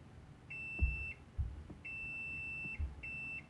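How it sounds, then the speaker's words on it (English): A vintage Hewlett Packard multimeter in continuity mode gives three loud, clear high beeps of varying length, with light handling clunks in between. "let's have our meter in continuity"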